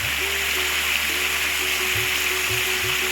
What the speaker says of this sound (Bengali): এবার ঘরে থাকা সবজিগুলো আমি এইগুলো দিয়েই বানাচ্ছি, এগুলো আমি ভেজে নেব